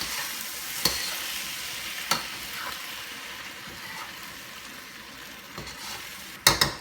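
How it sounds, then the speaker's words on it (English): A pot of garlic sauce with eggplant stirred in, simmering and sizzling steadily with a few spoon knocks against the pan and a louder clatter at the end. "once you see it bubbling and boiling"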